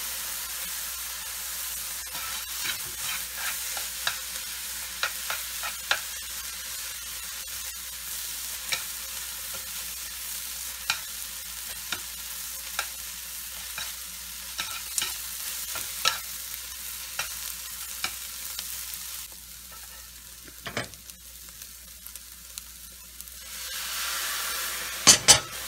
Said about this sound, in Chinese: 点水以后，请您迅速的翻炒，用筷子这样挑起来，再落下去，这样足足的再翻炒1分钟之后